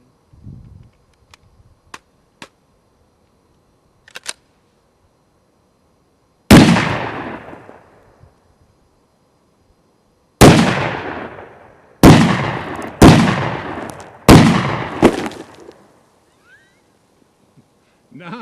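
A Kel-Tec SU-16 rifle fires outdoors, with one loud shot, a pause, then four sharp shots in quick succession, each with a ringing decay. Faint clicks and handling sounds come before the shots.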